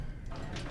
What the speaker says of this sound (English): There's a default door sound.